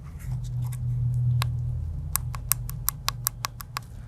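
Sharp, close clicks from buttons pressed on a custom iPhone housing, a quick series of evenly spaced presses over a low background hum.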